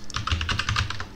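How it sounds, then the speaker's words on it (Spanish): Fast, steady typing on an English-layout computer keyboard, a close run of crisp key clicks and clacks in an uneven rhythm with no voices. "Cometo muchos errores de tecleo porque este teclado inglés que tengo ahora entre manos"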